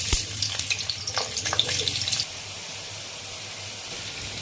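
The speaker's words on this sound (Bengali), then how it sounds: "উচ্ছেগুলো একটু ভেজে নেব" Bitter gourd pieces fry in oil in a kadai for shukto, with a close sizzle and a few sharp crackles and clinks early on, then a quieter steady hiss.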